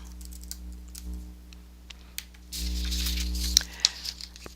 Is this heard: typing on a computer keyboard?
yes